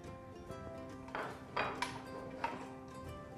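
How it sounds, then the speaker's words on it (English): Spoon stirring carrot custard pudding with chopped almonds in a pan over a low flame, giving a few soft scraping clinks against the metal amid steady background hum. "just gonna give a stir"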